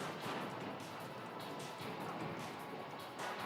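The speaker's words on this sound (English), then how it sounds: "Shoot the enemy, the bullet disappears like that." Dense, continuous blasting and explosion noise from the shoot-'em-up G-Darius on PlayStation, a loud unbroken wash of shots with faint speech underneath.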